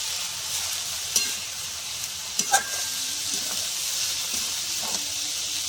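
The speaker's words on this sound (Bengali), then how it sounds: "মেথি শাকটা দিয়ে আমি এবার সব কিছুর সঙ্গে মেথি শাকটা ভালো করে ভাজবো" Fenugreek leaves frying in a pan with other ingredients: a steady, loud sizzle with a few brief utensil taps and scrapes while they are stirred.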